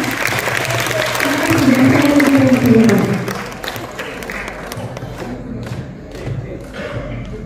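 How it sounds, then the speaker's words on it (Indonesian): Audience applause at the gala premiere of the Indonesian film Merah Putih One For All, steady and dense, with crowd noise and voices under it. Louder at first, then easing to a softer continuous patter. "Tepuk tangan bagi kita semua."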